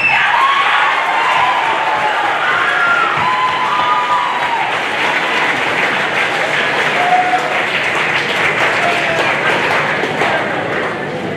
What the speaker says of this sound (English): Let's hear one more huge round of applause for our 8th graders entering high school.